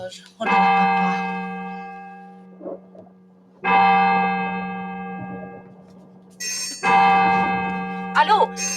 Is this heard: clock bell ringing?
yes